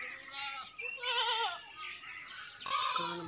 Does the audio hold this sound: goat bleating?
yes